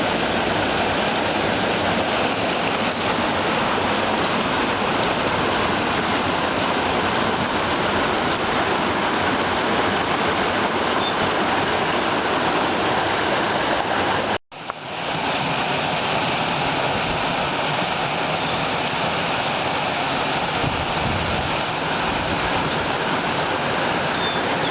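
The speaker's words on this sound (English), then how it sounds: "It's a river with rocks, my beloved rocks, and little waterfalls" A river in Wales rushes steadily over rocks and small waterfalls, a dense, continuous broadband roar with a brief cut partway through.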